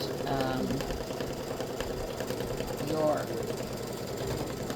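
An embroidery machine stitches a tic tac toe grid, a steady rapid mechanical rattle and hum close by, with someone talking over it.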